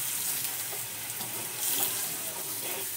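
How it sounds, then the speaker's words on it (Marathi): Halved potatoes sauté in a hot pan for a spicy potato curry, giving a continuous close sizzle with faint stirring scrapes and no voices. "आता हे अर्धे खापा केलेले बटाटे हे आखे आपण असेच घालतोय, ते पण पूर्ण असे परतून घ्यायचे।"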